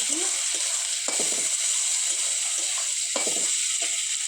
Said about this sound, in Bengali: পেঁয়াজটা লাল লাল করে ভেজে নিয়েছি, ভেজে এবার টমেটো কুচি দিচ্ছি